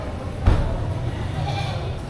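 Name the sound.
goats bleating at a livestock market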